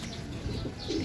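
Racing pigeons cooing softly nearby, a brief low burbling coo with faint chirps, quiet and without voices.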